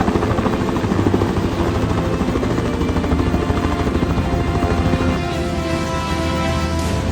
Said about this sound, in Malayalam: ഇതൊരു വലിയ ഫ്ലൈറ്റ് ആണെന്നുണ്ട്, അതിനേക്കാളും സോറി വലിയ ഹെലികോപ്റ്റർ ആണെന്നുണ്ട്